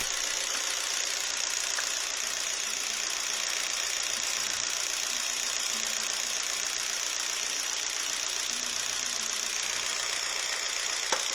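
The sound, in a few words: car engine idling with one cylinder disconnected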